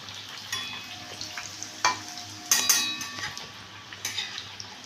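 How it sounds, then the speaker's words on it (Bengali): Semolina pakoras deep frying in oil, with a soft bubbling sizzle broken by occasional metallic clinks and ladle taps against the pan, close and fairly quiet. "এগুলোকে আমি লাল লাল করে ভেজে নেব।"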